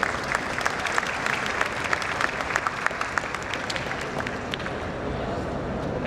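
An audience applauds after a talk, a dense, steady patter of many clapping hands that carries on evenly and fades slightly toward the end.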